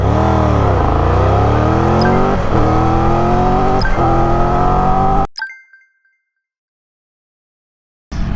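A Triumph Tiger 1200 or BMW GS 1250 motorcycle accelerates hard, its loud engine pitch climbing in repeated sweeps with brief gear-shift dips. It cuts abruptly to near silence before the engine noise returns at the end.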